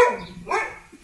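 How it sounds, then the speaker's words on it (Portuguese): A dog barks close by at a house for sale in the Heliópolis neighbourhood of Garanhuns, Pernambuco: one loud, short bark with a yelping edge, heard on its own without talk. "sai da frente do cachorro, senão ele fica latindo ali"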